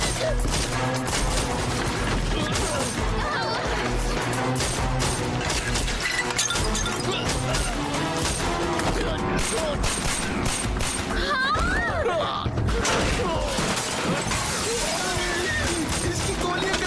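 Dense, continuous bursts of gunfire and crashing noise under shouted Hindi voices in a dubbed movie scene, chaotic and loud throughout.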